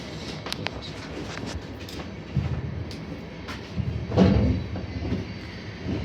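A train rolls past at a distance with rumbling wheels and scattered clicks and knocks, swelling to a peak near the end; heard outdoors beside a 1982 Yamaha Maxim 750 motorcycle being worked on, with no talk.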